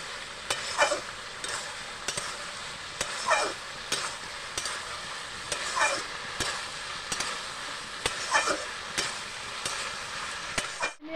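Curry with jackfruit being stir-fried in a pan, a continuous sizzle broken by rhythmic scraping strokes of a spatula roughly every second, close and steady with no talking.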